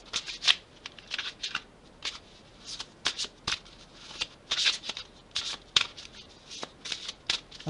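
Tarot cards being shuffled by hand for a horoscope reading, a rapid series of crisp riffling bursts and soft slaps, close and fairly quiet, without talking.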